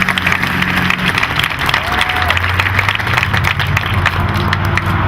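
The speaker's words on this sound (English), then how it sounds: "A round of applause for everybody, please." A crowd claps and cheers at a health and wellness center grand opening, steady loud applause throughout with some voices mixed in.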